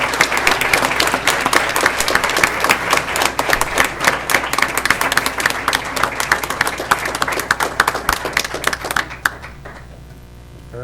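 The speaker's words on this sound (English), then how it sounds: "Go ahead and feel free to applaud." Parents and attendees at a school board meeting applaud an elementary school math group, a loud, sustained round of many clapping hands that stops abruptly near the end, leaving quiet room tone.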